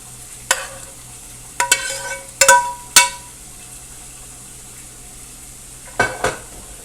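Leftover chicken meat stirred into a frying skillet, sizzling softly under a series of sharp clinks and scrapes of a utensil against the pan, close and intermittent.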